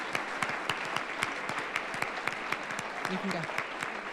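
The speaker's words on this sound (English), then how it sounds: "Let's give us a round of applause for this year's basketball team." Sparse, moderate applause at a school winter sports awards ceremony for the basketball team, individual claps clearly separated in an uneven rhythm, with a brief spoken line near the end.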